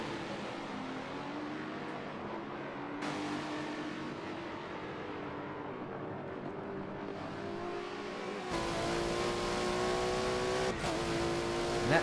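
A Ganassi Racing prototype race car in a sim racing game holds a high, steady engine whine as it laps the track, the pitch stepping with gear changes, then turns louder and closer near the end, with no voices.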